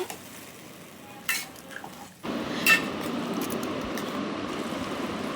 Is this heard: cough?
no